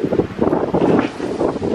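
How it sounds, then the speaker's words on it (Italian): A strong outdoor wind gust buffets the microphone in a loud, continuous roaring rush with pulsing surges, blowing things over in a garden during a sudden storm. "è venuto su un vento assurdo, mi sta buttando giù tutto"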